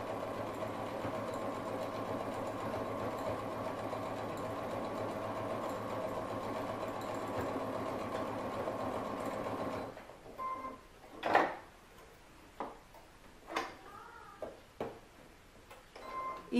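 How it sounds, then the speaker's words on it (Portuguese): A sewing machine stitches the last pocket of a triangular pouch, running in a steady continuous drone for about ten seconds, then falling to quieter handling sounds with a few short bursts of stitching. "Vou costurar agora o último bolso."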